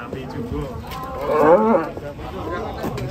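A cow weighing about eight quintals moos once in a long, rising and falling call near a livestock truck it is unloaded from, loud and close over rustling farmyard noise.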